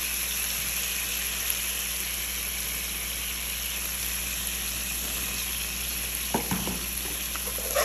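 Spaghetti with sausage and herring fries in a pan, a steady loud sizzle throughout with a faint hum beneath and a few clattering stirs near the end.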